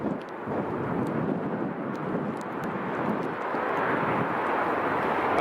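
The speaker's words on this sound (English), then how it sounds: "swinging it round as soon as he touches down, kicking that rudder to swing the aircraft straight on the runway" A steady, broad roar of an airliner touching down on the runway at Chicago O'Hare, heavy rumbling engine and wind noise held at a constant level throughout, with no voices.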